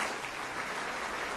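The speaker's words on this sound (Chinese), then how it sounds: "掌声有请" Audience applause welcoming a performer onto the stage, a steady wash of many clapping hands, fairly soft and distant, continuous throughout with no voices on top.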